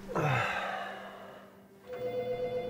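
A telephone rings for a missed call, a bright electronic ring that starts loud, fades away, then rings again near the end, with no speech.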